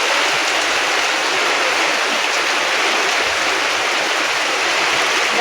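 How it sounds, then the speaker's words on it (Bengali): Heavy monsoon downpour pours down in a village in Ramganj, drenching a veranda, a dense, steady roar of rain that stays loud and unbroken throughout with no voices. "বৃষ্টি হচ্ছে মুষলধারে।"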